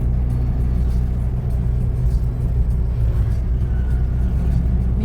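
Steady low engine rumble of a car rolling along a road, close and constant throughout with no distinct revs or pauses.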